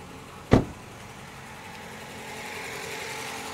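A 2024 MG5 engine with new double iridium spark plugs starts with a sharp burst, then settles into a steady, raised high-rev hum that grows slightly louder and stays close and continuous.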